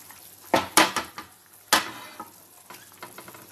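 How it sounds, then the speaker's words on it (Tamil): Fish pieces dropped one by one into simmering Madurai-style meen kulambu (Tamil fish curry) in a pot, giving a few close splashy sizzles and clatters in quick succession, then a quieter bubbling simmer. "இப்போ நம்ம இந்த ஒவ்வொரு மீனையாக எடுத்து போடுவோம்."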